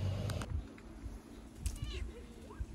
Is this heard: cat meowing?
yes